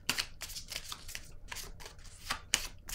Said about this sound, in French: Je vais déposer une carte maintenant sur la tentation